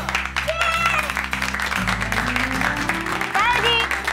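Applause from a group at a family cocktail party in a TV drama, mixed with loud background music and some vocal sounds throughout.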